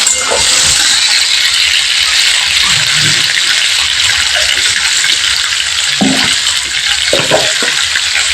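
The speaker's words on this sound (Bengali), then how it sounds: "ডুমো ডুমো করে কেটে রাখা আলুগুলো তেলের মধ্যে অ্যাড করে দিলাম।" Diced potatoes fry in hot oil in a home kitchen while being stirred, giving a constant loud sizzle with scattered scraping and rattling stir strokes throughout.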